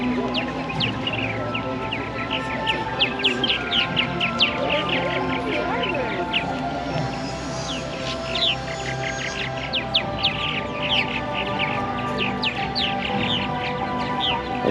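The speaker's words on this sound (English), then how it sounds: "all the chirping and little families being made, little birds being born" Many purple martins chirping and twittering together in a dense, continuous chorus at their roost, lively and close, with a low background murmur underneath.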